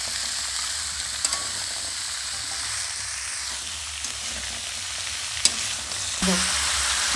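Pumpkin, potato and papaya cooking with a katla fish head in a pan, giving a low, even sizzle and hiss with faint occasional stirring taps and a brief clink near the end.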